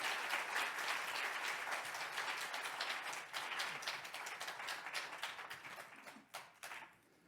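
A church congregation applauds at a Christmas service, dense steady clapping that thins out toward the end into a few scattered, separate claps before fading.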